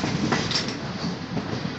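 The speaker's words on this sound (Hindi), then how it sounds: "हम लोग पहुंच रहे हैं गजरौला रेलवे स्टेशन" Mussoorie Express train pulling into Gajraula Junction railway station, a steady broadband rumble of rolling carriages with faint rail clatter, heard from on board, fairly loud and continuous without talk.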